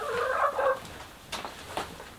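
A backyard hen clucks loudly near a coop during snack time, a dense burst of squawking at first, then a few short, fainter clucks and chirps.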